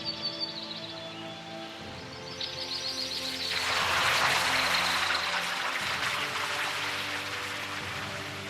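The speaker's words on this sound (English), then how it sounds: "What a charming little waterfall." A small waterfall in the Keepsake video game gives off a steady rushing wash that swells in about halfway through, then runs on beneath sustained soft musical tones.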